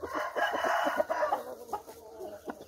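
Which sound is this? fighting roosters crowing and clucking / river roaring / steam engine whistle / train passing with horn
fighting roosters crowing and clucking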